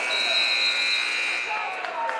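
End-of-quarter buzzer at a women's college basketball game, St. Xavier at Indiana Tech, sounding as a steady, sustained electronic tone over arena noise for about two seconds.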